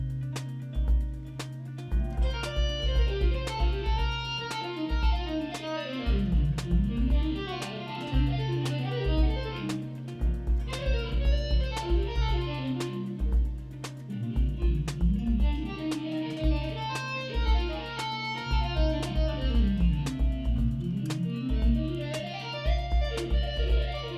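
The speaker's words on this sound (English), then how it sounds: "Let's get the sound of that C Dorian scale." A C Dorian scale played on an instrument with steady bass notes underneath: notes step up and down in repeated runs over a pulsing low accompaniment, moderately quiet, with no talking.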